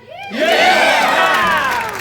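A theatre crowd at a stage performance of Oklahoma! breaks into a sudden loud cheer, whooping voices swelling quickly and holding strong for about two seconds.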